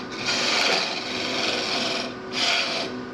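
Sandpaper rubs steadily against a wooden Celtic wedding goblet turning on a lathe, a continuous close, loud rasping hiss that swells in two or three strokes with no pause.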